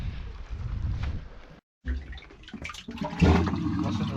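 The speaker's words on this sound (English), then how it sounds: "with the water rushing into those holes at certain tide heights." Sea water surges and rushes into holes beneath stones on a Scottish shore, a rough continuous wash that breaks off briefly and then swells back, ending in a louder gurgling push.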